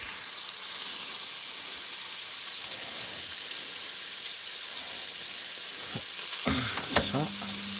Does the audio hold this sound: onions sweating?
yes